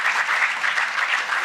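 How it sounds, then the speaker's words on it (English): Audience applause at a live onstage conversation with author Shobhaa De: steady, dense clapping from a large crowd, fairly close and even throughout, with no voices over it. "Huge round of applause."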